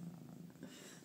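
A frightened domestic cat purring close by, a soft low continuous rumble with a steady pulsing rhythm and no talk over it.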